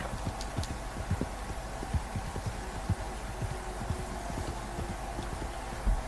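Horse hooves in Red Dead Redemption 2 clip-clop in a steady, even rhythm at walking pace over a low background hum.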